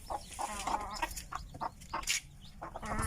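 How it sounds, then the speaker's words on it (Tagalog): Native chicken hens cluck repeatedly in short, close bursts, with a few louder squawks mixed in and a steady farmyard murmur underneath. "yan yung mga idol yan yung mga inahin natin"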